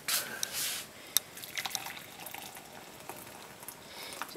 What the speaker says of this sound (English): And then we need to pour 250 milliliters of boiling water.